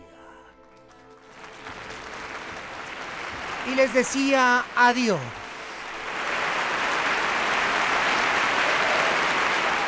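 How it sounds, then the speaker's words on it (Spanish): A boisterous crowd on a New York dock claps for departing travellers, the broadband applause swelling after a brief stretch of speech and holding steady and fairly loud to the end. "Una bulliciosa multitud les aplaudía"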